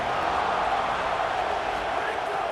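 Stadium crowd in EA Sports College Football, a dense continuous roar from a packed football venue, loud and steady throughout with no clear individual voices.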